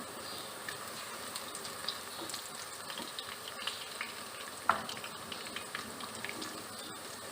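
Onions and whole garam masala fry in a pan for chana dal biryani, a faint steady sizzle with occasional light scrapes and taps, no voices.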